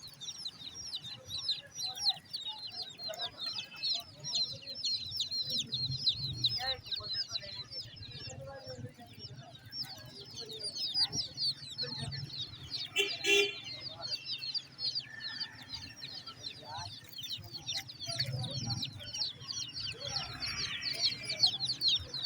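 Many small colorful chicks at a bird market on College Road, Rawalpindi, a dense steady chorus of high peeping, with people talking nearby and occasional louder clucks.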